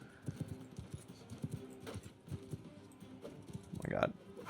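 Horse hooves clip-clop in a steady, rapid rhythm during a cavalry charge in the medieval combat game Bannerlord, mixed with faint clashing and other game sounds, fairly quiet throughout.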